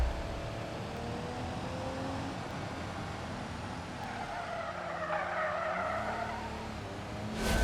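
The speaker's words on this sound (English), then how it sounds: "A little bit of sliding going on." Overloaded truck in the BeamNG driving game sliding on its tires, a steady broadband skid and engine roar running throughout, swelling slightly in the middle and rising sharply at the very end.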